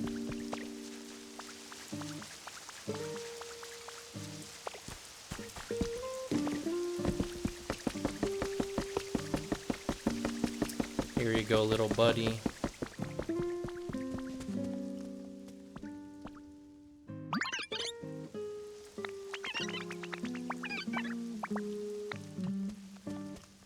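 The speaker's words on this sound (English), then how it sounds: "It's raining and it's like coming through the ceiling." In the video game Pokemon Pokopia, rain drips through a ceiling in steady drips and drops, an uneven patter over the game's musical tones, with a brief spoken line partway through.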